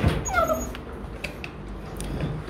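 A Rottweiler puppy sniffs close to a camera and gives a brief high whimper near the start, followed by soft snuffling and handling noise at close range.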